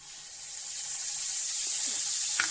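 A steady, bright sizzling hiss rises and holds as garlic-ginger paste hits hot oil, with faint crackles and a small clink near the end.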